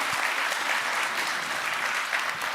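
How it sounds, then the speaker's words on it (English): Steady, full applause from a conference audience closes a morning session at WordCamp Europe 2023, thick and continuous throughout with no voices on top. "Everybody give Louise a big round of applause again."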